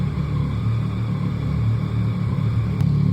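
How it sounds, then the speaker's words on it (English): A noisy motorcycle passing on a street in Bari Vecchia, a low, steady engine rumble behind the listener that swells slightly as it moves through, without speech. "there's this noisy motorcycle behind me"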